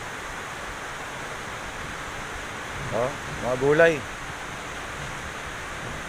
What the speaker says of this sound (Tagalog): Malakas ang agos ng tubig. Gawa ng tuloy-tuloy na pag-ulan.